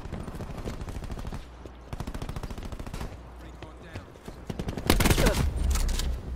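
Shotgun and rapid gunfire in the shooter game Black Ops 4, dense repeated bursts that swell into a louder, heavier volley near the end.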